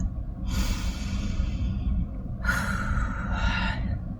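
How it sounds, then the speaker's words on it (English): A big deep breath taken during a guided self-acceptance exercise, a long audible inhale followed by a slower exhale, close and fairly loud, with no talking. "let's take a big deep breath"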